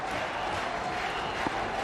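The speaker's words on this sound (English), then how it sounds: "The crowd chanting for a 6." A packed stadium crowd at a 1996 India versus Pakistan one-day cricket match in Sharjah chants for a six, a dense, continuous roar at an even level with no clear voices standing out.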